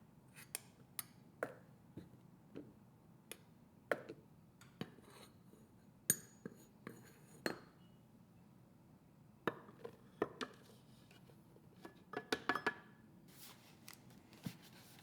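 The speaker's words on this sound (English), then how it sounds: "this butter here is cut into cubes" A knife cuts a block of butter into cubes on a kitchen surface, making a scattered series of sharp, close taps and knocks against the board, some in quick clusters, with no talking.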